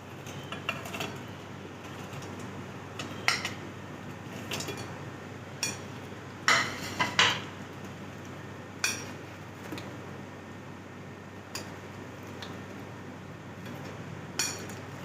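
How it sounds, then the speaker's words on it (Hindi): Fried dynamite chicken being tossed into sauce in a kitchen, giving soft scattered clinks and scrapes of utensil on dish at a low level, with a few sharper metallic taps standing out. "सॉस में मिक्स करेंगे।"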